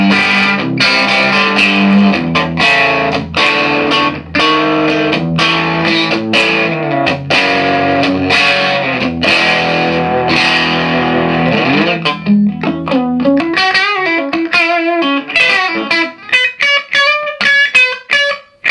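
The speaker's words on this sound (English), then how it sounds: "Really sweet, full guitar. Great two pickup sound." A Telecaster Thinline played through an overdriven Sampson-era Matchless amp, using both pickups, rings out loud and full with crunchy, breaking-up strummed chords and single-note runs that continue throughout.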